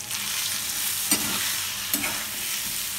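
Spice masala of coriander, cumin, red chilli and turmeric powder with green chillies cooking with potatoes in a pan, giving a steady hiss and two sharper scraping stir strokes, without any voices.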